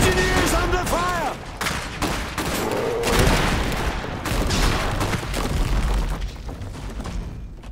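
Dense battlefield gunfire aimed at engineers in an Iron Harvest mission, crackling volleys and sharp shots mixed with booms, steady and close, with voices calling out over the shooting.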